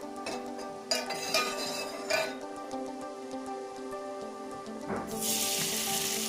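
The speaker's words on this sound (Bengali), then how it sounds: "কড়াইতে 1 চামচ মতো ঘি দিয়ে ওই ঘিয়ে খেজুরটা অল্প আঁচে একটু নেড়ে নিচ্ছি।" Dates stirred in a spoonful of ghee in a pan over low heat for khejurer payes: a soft, steady sizzle with a few metallic clinks of the spoon against the pan, and the hiss swelling louder near the end.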